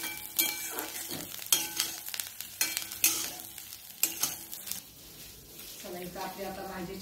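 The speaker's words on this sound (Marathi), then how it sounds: "छान पाणी जाऊपर्यंत ह्याचं तेलात परतून घेणार आहे" Taro leaves and fenugreek fry in oil while being stirred, with a steady sizzle broken by scraping and rustling strokes of the spoon, close and fairly loud.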